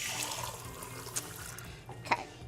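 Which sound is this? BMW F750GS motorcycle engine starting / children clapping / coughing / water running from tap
water running from tap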